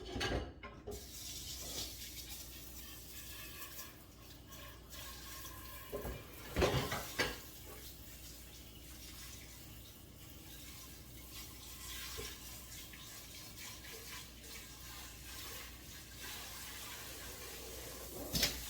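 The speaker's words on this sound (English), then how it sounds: "let me get some water in this so it doesn't stick." Water runs from a kitchen tap into a cooking pan while making mac and cheese, a steady faint splashing stream with occasional metallic clunks of the pan, no talking.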